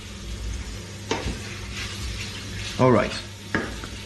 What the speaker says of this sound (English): otherwise it will burn, so I will scrape it off